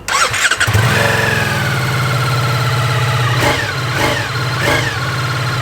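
A Ducati motorcycle engine cranks and fires up, then settles into a loud, steady, throbbing idle with a few blips of the throttle.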